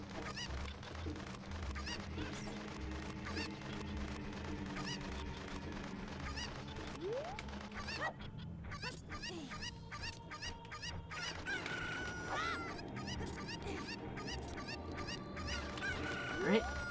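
Game chickens in The Legend of Zelda cluck and squawk in repeated bursts over a busy layer of game music and sound effects, fairly loud and continuous.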